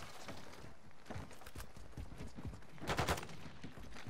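Gunfire in Call of Duty: Modern Warfare II, a fairly distant, quiet stream of rapid cracking shots with a denser burst near the end, over continuous low battlefield rumble.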